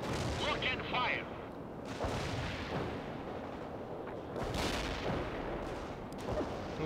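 Artillery and gunfire in the World in Conflict war game: repeated heavy booms and crackling shots, loud and close, in irregular bursts over a continuous battle din.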